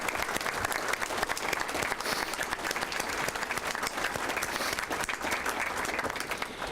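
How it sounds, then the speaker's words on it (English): A full room at an evening gala gives a sustained round of applause in memory of people lost, dense, loud and even clapping from many hands. "I would just like us to give a round of applause in memory of all those people that we lost earlier this"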